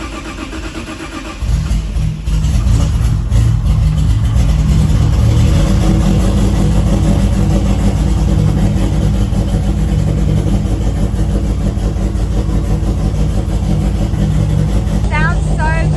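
A car engine with a Haltech dash fires up and settles into a loud, steady, strong-sounding idle that runs continuously close by, with a voice speaking over it.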